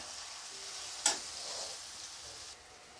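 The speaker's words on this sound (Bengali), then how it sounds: "পেঁয়াজ রসুনটা নাড়িয়ে দিচ্ছি" Onion and garlic frying in oil in a pan, a steady soft sizzle with one sharp stirring scrape near the start, fairly quiet and close, no talking.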